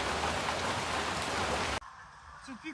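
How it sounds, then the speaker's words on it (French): Heavy rain pours in a dense, loud, steady hiss, then cuts off abruptly, leaving a quiet background with faint rustling. "Et là, il pleut beaucoup."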